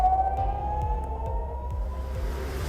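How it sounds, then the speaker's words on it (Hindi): An air raid siren sounds in Jerusalem, one long sustained wail that slowly falls in pitch, steady and moderately loud over a low pulsing rumble. "यरूशलेम में जंगी सायरन की डरावनी धुन है"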